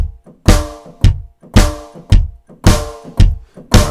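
Kick drum pounding a steady four-on-the-floor beat on a drum kit, eight evenly spaced heavy thumps with brief cymbal-like wash, close and alone.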